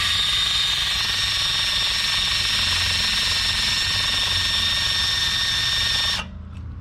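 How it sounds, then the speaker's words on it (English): A steady, loud, high-pitched whine from a power drill boring into tough metal on a Chevy Cruze rear suspension runs without a break, then cuts off abruptly near the end. "So you just want to drill this part."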